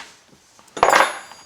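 A wrench loosens the oil filter bolt on a rat-infested 140 Corvair engine, giving one sharp metallic clank followed by a brief scraping rattle, close and alone.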